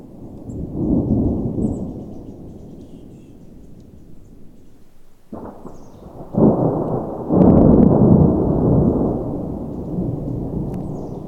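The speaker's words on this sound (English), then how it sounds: "it's starting to thunder and stuff, so I'm gonna get down there as fast as I can" Rolling thunder rumbles through heavy rain during a hike in Yosemite, deep and sustained. The low roar swells in a louder burst partway through and stays strong to the end.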